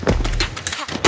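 Automatic weapons fire from Border Patrol at the Douglas Gun Range in Arizona, rapid bursts of sharp cracks packed together, loud and close, with a voice talking over part of it.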